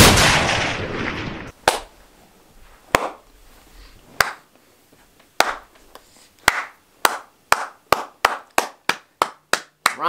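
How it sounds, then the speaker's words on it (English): A lone person claps by hand after a stretch of noisy sound, first slow separate claps, then speeding into a rapid, sharp, close run of single claps. "Round of applause, man."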